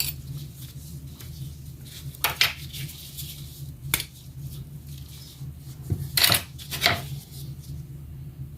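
A spoon scraping and cutting through avocado flesh in a kitchen: a few soft, sharp scrapes and taps spread out in quiet, close and fairly faint, with no talk.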